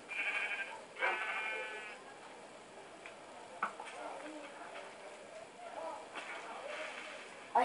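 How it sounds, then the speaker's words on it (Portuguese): Sheep bleating in Minecraft, a couple of wavering bleats near the start amid game clatter and footstep clip-clop, with people talking in Portuguese over the scene. "Ali, uma ovelha."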